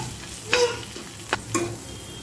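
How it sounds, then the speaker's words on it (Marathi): Whole spices, bay leaf, cloves, peppercorns, cinnamon and star anise, sizzling in hot oil in a pan, with a few quick stirring scrapes over the steady frying hiss. "आता इथे साईडला मी खडा मसाला घालते, तेजपत्ता, लवंग, मिरी, दालचिनी, स्टार फूल"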